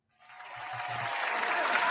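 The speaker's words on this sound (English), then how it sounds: "Round of applause" Canned applause effect swells in from silence, a crowd of clapping hands rising quickly to a full, steady roar and holding to the end.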